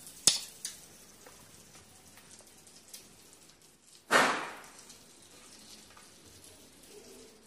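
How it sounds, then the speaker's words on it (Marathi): A sharp hiss bursts up as butter hits a hot griddle, then settles into a faint, quiet sizzle, after an earlier click. "चला तर आता तव्याला बटर लावून घेऊया"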